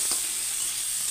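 Ground cumin fries in a pan while pat shaker jhol (jute-leaf curry) is cooked, giving a brief, steady, hissing sizzle that is close and fairly soft, with no talk.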